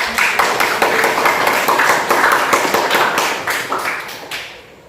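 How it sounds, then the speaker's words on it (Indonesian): Students in a classroom clap together for classmates who answered, a brisk run of crisp hand claps that stays loud and near before thinning out at the end. "Tepuk tangan yang sudah menjawab."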